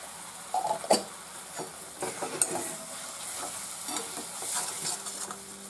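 Ghee heating in a kadhai while mawa barfi is cooked, with a low continuous sizzle and occasional spoon scrapes and clicks against the pan.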